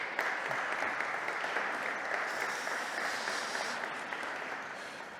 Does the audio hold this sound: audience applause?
yes